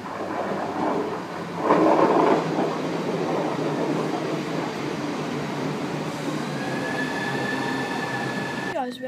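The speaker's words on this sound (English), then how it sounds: "we are now on the train." Steady rumble inside a moving train carriage, wheels clattering underneath, a brief louder swell early on and a thin squeal rising near the end.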